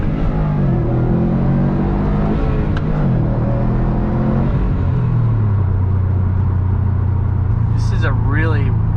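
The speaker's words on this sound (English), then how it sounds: "You can hear every single pebble on the road and every single groove that your tire hits." Inside a 2019 Subaru WRX STI Type RA on the move, loud broadband tire and road rumble fills the cabin beneath a low, shifting engine drone.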